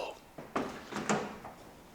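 A VW camper van door being opened: a few dull clunks and rattles of the latch and panel, close by, in a quiet space.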